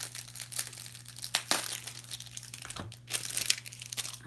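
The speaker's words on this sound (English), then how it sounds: "I gotta open my new ribbon here." New daisy ribbon being unwrapped from its packaging, with close, loud crinkling and crumpling of plastic in uneven bursts and a few sharper tearing rustles, alone over a steady low hum.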